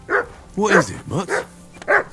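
Dog barking in the video game Kingdom Come: Deliverance II, several sharp close barks and yips spaced in quick succession, with in-game character speech in the mix.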